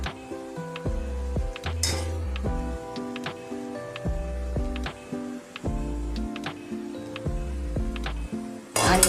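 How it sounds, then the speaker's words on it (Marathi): Cooled oil is poured into mango pickle masala and mixed in a bowl, with clinks and scrapes of a spoon against the dish. The sounds are close and irregular, with no talking. "आणि आता हे थंडगार झालेलं तेल घालून घेते आहे"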